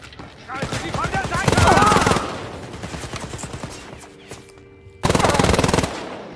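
Machine pistol fire rattles in Wolfenstein: Youngblood, two long rapid bursts, the first overlapping with a voice, then a pause before another loud close burst.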